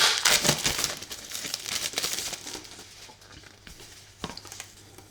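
Plastic wrapping torn and crinkled off a Tainted Grail art album, a close, busy crackling that is loudest at the start, tapers off, and ends in a final sharp rustle.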